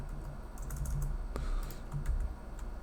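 Rapid keystrokes clatter on a computer keyboard while entering a run of spaces in an HTML file, steady close clicking over a constant hum.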